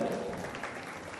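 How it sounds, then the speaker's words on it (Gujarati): An audience at a community samaj gathering claps in a short burst of steady applause, moderately distant and fairly soft. "જોરદાર તાળીઓના નાદ સાથે વધાવી લેજો."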